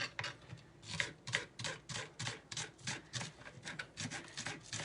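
Knife slicing and sawing through the ends of large spring onions on a board, a fast, quiet run of repeated rasping strokes close by, steady in rhythm with no talking.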